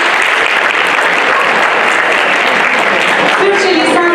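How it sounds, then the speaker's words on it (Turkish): A choir concert audience of Turkish classical music applauds loudly and steadily, a dense wash of many hands clapping throughout, with a faint voice rising near the end. "Bir alkışla lütfen kendinize."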